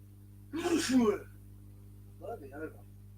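A single sharp sneeze bursts out close by, followed a moment later by a brief quiet spoken reply.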